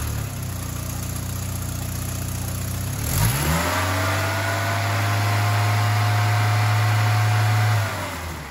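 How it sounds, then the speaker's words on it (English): A VW Cabriolet engine idles roughly, cuts out briefly, then restarts and is held at a steady high rev above 2000 rpm for several seconds before dropping back, close and loud with no talk. "start the vehicle and rev it to above 2000 for 2 seconds"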